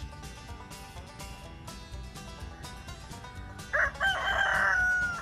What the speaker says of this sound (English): Carl the Rooster is the only rooster walking around downtown Ocean Springs.